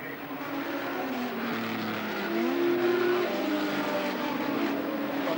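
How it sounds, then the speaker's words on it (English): A 1985 touring race car engine at the Wellington street race in New Zealand, a steady droning roar with rising pitch sweeps as it passes, loud and continuous with no talk over it. "The car sounds fine."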